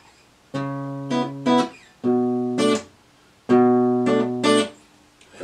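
An acoustic guitar plays a strumming pattern for a song, with repeated bass strikes and sharp chick strums in two clear phrases, close and alone without any talking.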